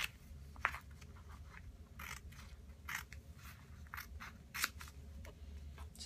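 Scissors snip a thin sliver off a Cheerios cereal box, several short crisp cuts spaced irregularly with soft paper rustling between them, close and fairly quiet.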